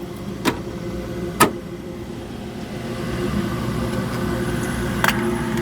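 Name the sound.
H-120 Army space heater running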